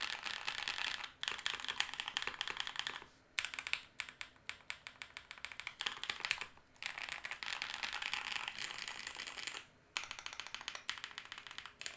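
Rapid, steady typing on a mechanical keyboard with switches being tried after a rebuild, dense clicky keystrokes up close in bursts broken by short pauses.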